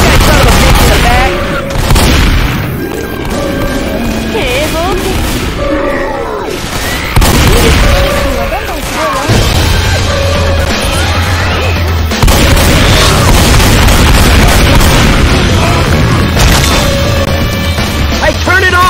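Left 4 Dead 2 combat in the Parish campaign, with repeated loud booming blasts and gunfire bursts over a busy game soundscape, a Boomer zombie bursting among them, while voices talk throughout.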